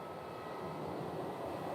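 An airliner taxis at Phoenix Sky Harbor airport, a steady broadband engine rumble and whine that holds at a moderate, fairly distant level throughout.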